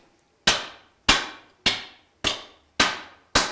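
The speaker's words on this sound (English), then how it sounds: "I'm going to hammer like this" Hammer striking sheet metal formed over a stake in a metalwork studio, six sharp ringing blows at a steady, unhurried rhythm, close and loud, each fading quickly before the next.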